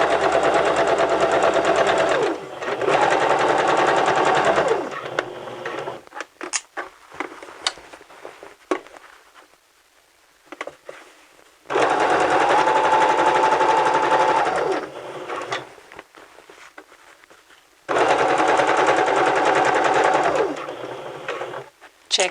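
Sewing machine stitching fabric around a curve, heard in three separate bursts of fast, steady whirring with quiet pauses between them, as a voice speaks in the gaps.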